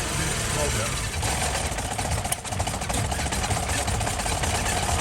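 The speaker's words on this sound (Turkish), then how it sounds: "Şimdi marş yapacağız." A car engine runs steadily at idle with a loud, continuous mid-to-low rumble, a brief dip near the middle, and no separate cranking burst clearly standing out; the vehicle has a morning start-and-stall fault.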